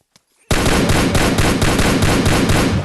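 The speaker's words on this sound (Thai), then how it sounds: "ผมยิงได้ครับอย่างมันนะครับเสียงปืนค่อนข้างโอเคเลยนะ" After a brief quiet, rapid automatic gunfire from a zombie apocalypse addon in Minecraft PE erupts and continues loudly in a fast, even burst, game-like and close.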